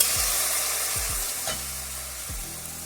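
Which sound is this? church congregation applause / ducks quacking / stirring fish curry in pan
stirring fish curry in pan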